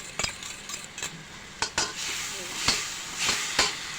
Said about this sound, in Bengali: তো এখন আমি এখানে সয়া সস দিয়ে দিচ্ছি, টমেটো কেচাপ